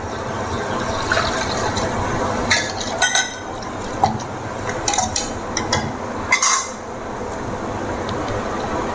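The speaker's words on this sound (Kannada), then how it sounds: "ಒಂದು ಸ್ವಲ್ಪ ನೀರು ಹಾಕ್ಕೊಂಡ್ಬಿಟ್ಟು ಹಾಕ್ತೀವಿ." Water is poured and stirred into a finely ground spice paste for dry fruit gojju. A soft liquid wash is broken by several sharp clinks of a utensil against a vessel.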